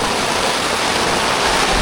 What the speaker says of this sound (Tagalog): Eto na guys, umulan na. Ang lakas!